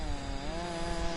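Lawnmower in the Lego Jurassic World game, a steady buzzing engine drone with a sustained motor tone, loud and close, heard alone.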